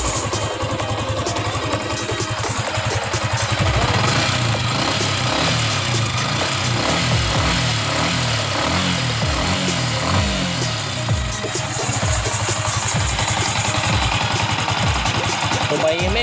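A Yamaha Sniper 155R motorcycle idles close by after an overheating fix, its engine running steadily with a continuous throbbing rumble, while people talk over it.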